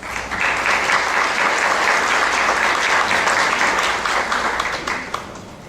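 Sustained audience applause at a Girl Scout troop event in Sunset Hills, Missouri, a dense, loud wash of clapping from many hands that holds steady before tapering off near the end.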